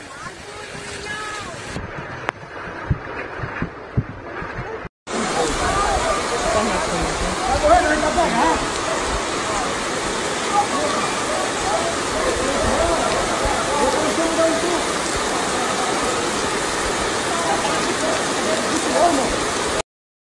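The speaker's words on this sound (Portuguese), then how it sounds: "A água levando tudo, ó." Floodwater rushing during heavy rain and a landslide in Brazil, a loud continuous roar of churning water and rain heard up close, with people talking and exclaiming over it.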